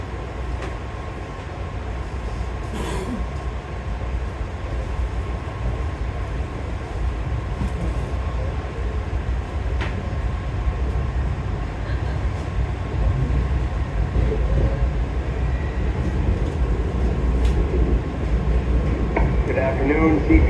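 A steady low rumble of a moving CTRail passenger train departing Hartford fills the whole stretch, with constant rolling noise and a few faint clanks; voices murmur faintly underneath.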